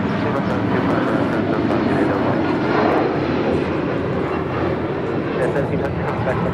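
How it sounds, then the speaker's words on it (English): A United Airlines Boeing 757-200 takes off from LAX with a steady, loud jet roar that holds constant throughout and covers a broad rumble, with no clear break. "This is United Airlines 1700 taking off to Newark on the 757-200."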